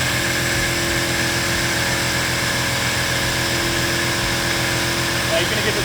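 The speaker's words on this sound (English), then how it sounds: "go ahead and connect your air hose. It's gonna get very loud here" An air-powered oil extractor runs during an oil change on a 2021-2025 Audi RS7, RS6, SQ7, SQ8 or RSQ8, giving a loud, constant mechanical drone with a throbbing low pulse and steady hiss that never lets up.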